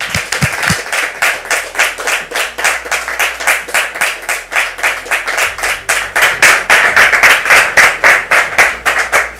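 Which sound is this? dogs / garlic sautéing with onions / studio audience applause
studio audience applause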